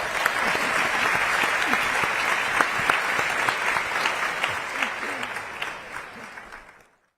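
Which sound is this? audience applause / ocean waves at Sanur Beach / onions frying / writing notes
audience applause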